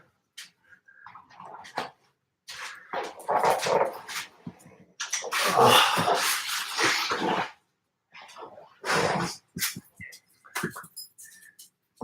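A dog whimpers and barks up close in a shop, with high whines, yelps and bursts of barking coming in uneven clusters, some quite loud, with brief silences between.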